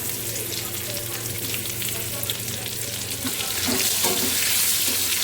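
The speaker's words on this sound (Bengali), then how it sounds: "সুন্দর করে ব্রাউন পর্যন্ত লাল লাল করে ভেজে নেব।" Onions frying in oil with bay leaves in a pan, giving a continuous close sizzle with stirring clinks that grows a little louder near the end, plus a faint steady hum underneath.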